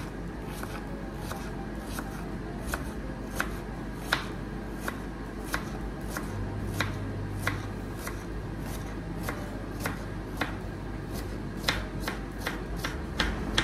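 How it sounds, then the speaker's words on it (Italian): A knife slicing a halved cucumber into half-moons on a cutting board, giving a steady series of crisp, close chops at an even rhythm, about a dozen taps with no talking. "Tagliamo a metà il cetriolo e tagliamolo"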